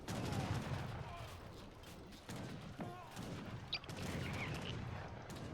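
Cannon volleys in a match of Age of Empires III: muffled booms and crackling battle gunfire blend into a dense, continuous din, with commentary voices talking over it.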